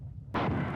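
A grenade blast in the first-person shooter Marathon 2: Durandal, a sudden loud explosion breaking a quiet low hum and then holding as a dense, roaring burst until the end.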